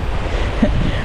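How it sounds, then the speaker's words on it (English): Cold wind blowing at a beach, loud low rumbling gusts buffeting the microphone continuously, with surf blended into the roar. "It's the wind that's very cold. I'm trying to talk above it."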